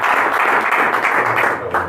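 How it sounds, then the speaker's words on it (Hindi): Audience applause after a question in an online Q&A session, a dense steady wash of clapping filling the whole moment, loud and continuous with no talk over it. "ताली बजाएं इसके सवाल के लिए"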